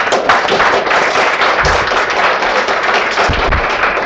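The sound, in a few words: audience applause for guest speaker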